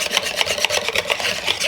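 Rapid rhythmic whisking of milk in a bowl for a fruit trifle, close and brisk, with even repeated strokes.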